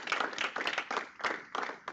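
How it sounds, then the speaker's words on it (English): A small group claps after a university security club lecture on command and control basics, the sound coming in uneven bursts of a few hands rather than a full crowd, fairly close and alone without talk. "Another round of applause for John for making such a great lecture."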